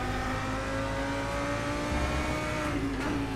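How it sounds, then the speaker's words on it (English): A GT3 race car engine in the rFactor 2 racing game drones at steady high revs, a continuous loud whine that climbs slightly near the end, with no voice over it. "let you just bask in the great sound of this car"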